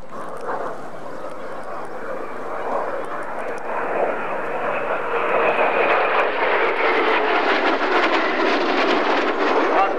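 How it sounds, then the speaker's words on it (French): Mirage III jets roar through an airshow display, a broad engine rumble that builds and stays loud and steady over ten seconds, with an announcer's voice talking over it. "Les 6 avions, fumée bleu, blanc, rouge."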